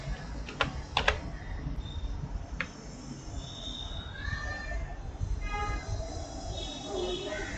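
Several quick taps on a mobile phone keyboard while typing into a search bar, a brief cluster of light clicks early on, followed by a steady background rumble resembling a train and faint indistinct voices.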